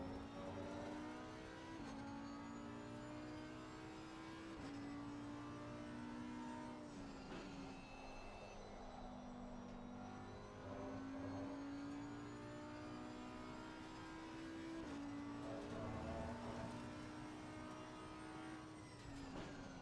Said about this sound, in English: It sounds like it's about to, but then it just keeps revving.